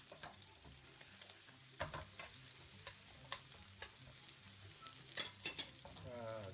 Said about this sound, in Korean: 양파도 옆에다 같이 볶으러 가겠습니다. 당근도 같이 볶고요. 버섯도 미리 볶겠습니다.